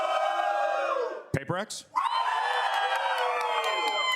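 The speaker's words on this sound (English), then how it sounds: "Let's do like a cheer, actually." A live audience at a Valorant Masters Toronto show cheers and whoops loudly as a dense crowd roar. It breaks briefly for a short spoken question, then swells back up and holds steady.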